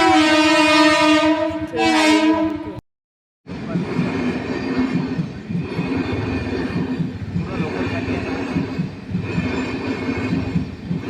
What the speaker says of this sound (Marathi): ट्रेन पूर्ण खाली आहे गाईज या ट्रेनमध्ये कोणीच नाही